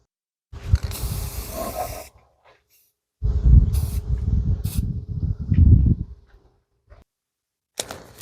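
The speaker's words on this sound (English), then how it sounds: "I've got some black semi-gloss. I don't know if this one will spray anymore or not, but give it a shot." A spray can of black semi-gloss paint sprays in three bursts, two long and close hissing blasts separated by a pause, then a short final spurt.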